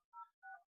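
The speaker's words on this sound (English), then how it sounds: "you just dial the number" Two short dual-tone keypad beeps from a phone dialer in a mobile calling app, clean and evenly spaced with silence between them.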